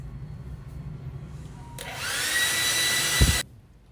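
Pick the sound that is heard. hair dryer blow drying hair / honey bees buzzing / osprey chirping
hair dryer blow drying hair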